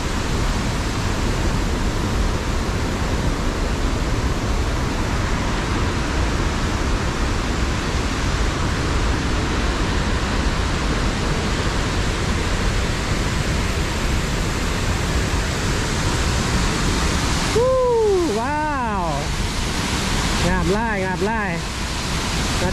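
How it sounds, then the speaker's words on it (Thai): Tad Yueang waterfall in Pakxong pours with a steady, dense rushing roar that stays constant throughout, with a few brief chirping tones near the end. "ละอองน้ำขึ้นมาช่วงนี้จะมีน้ำไหลเนาะจะงดงามเลยนะ"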